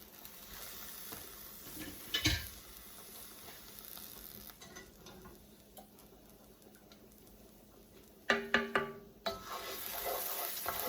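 Onions frying in a pan for shepherd's pie, a steady low sizzle with occasional sharper scrapes and clatters of stirring, one burst near the start and a louder cluster of knocks toward the end.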